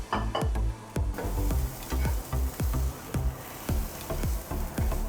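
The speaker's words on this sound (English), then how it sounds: "To the skillet, you're going to add your chopped onions and your peppers." Chopped onions and peppers fry in a skillet for a sweet potato hash, a dense continuous sizzle close by, broken by repeated scraping strokes of a spatula stirring them at an even pace.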